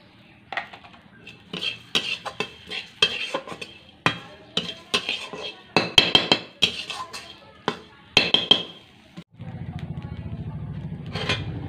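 Coriander seeds dry roasting in a dry wok without oil, stirred with a spatula that scrapes and clinks against the metal in repeated short strokes, close and clear, followed by a brief steady rustle at the end.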